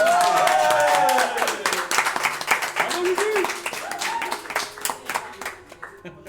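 Audience clapping at a live public performance, a burst of claps that thins into scattered, irregular hand claps and fades out, while a voice talks over the start and music plays beneath.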